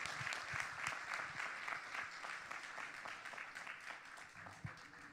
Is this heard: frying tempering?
no